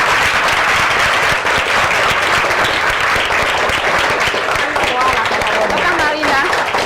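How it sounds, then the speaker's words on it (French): Children in a church clapping and cheering together, a dense, loud, sustained wash of applause with excited voices mixed in throughout. "On acclame très fort le Seigneur."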